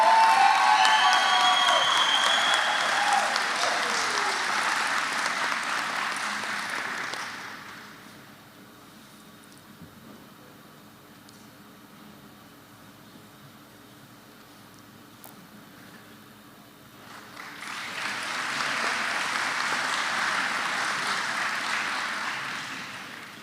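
A commencement audience applauds in two sustained bursts of clapping, loud and broad at the start, fading into a quieter hall, then swelling again near the end.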